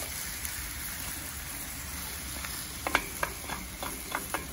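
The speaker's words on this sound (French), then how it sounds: "Là, je vais venir mettre les oignons qui restent." Onions for a tajine sizzle in a pot on a barbecue, a soft steady hiss outdoors with a few sharp clinks and scrapes of stirring near the end.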